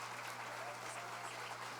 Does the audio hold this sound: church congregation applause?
yes